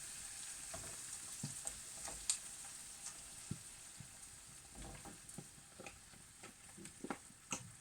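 Chicken sauté with cream being stirred in a pan, giving a quiet, steady sizzle broken by scattered soft scrapes and clicks of the spoon against the pan.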